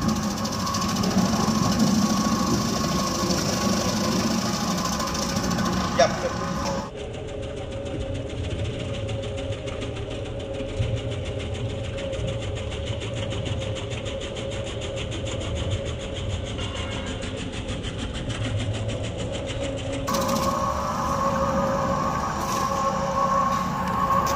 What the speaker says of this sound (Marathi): potato pillar machine, potato slicer machine